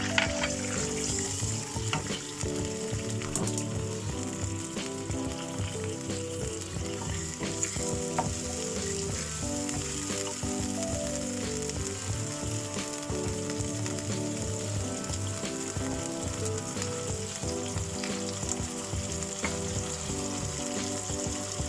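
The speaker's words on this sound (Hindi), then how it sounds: "अब हम डालेंगे जिंजर गार्लिक पेस्ट।" Ginger garlic paste sizzling loudly in a hot pan for an aloo chicken curry, a steady dense frying hiss with faint stirring, heard alone without talk.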